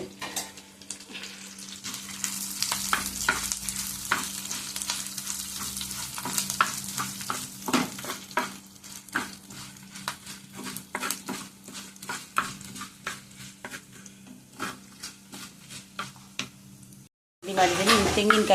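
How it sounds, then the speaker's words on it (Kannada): Curry leaves fry in a pan with repeated stirring, the close, steady sizzle broken by a rapid run of scraping and clinking strokes of the utensil against the pan, no talk over it. "ಕರಿಬೇವು ಹಾಕಿ ಫ್ರೈ ಮಾಡ್ತೀನಿ ಮೀಡಿಯಮ್ ಇರಬೇಕು"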